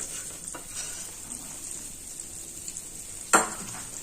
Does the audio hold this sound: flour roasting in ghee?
yes